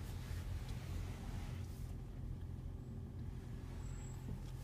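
A car with automatic transmission pulling away in drive, a steady low engine hum close by with no other sounds.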